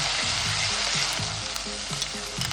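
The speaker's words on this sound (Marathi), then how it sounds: "कढईमध्ये 2 चमचे तेल, पाव चमचा जिरं, बारीक चिरलेले 2 कांदे छान सोनेरी होईपर्यंत परतून घ्यायचे" Finely chopped onions and cumin fry in hot oil in a wok, giving a close, steady sizzle with soft stirring scrapes throughout.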